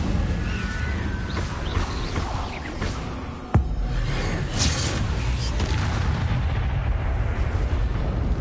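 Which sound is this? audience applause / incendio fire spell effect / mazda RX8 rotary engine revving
incendio fire spell effect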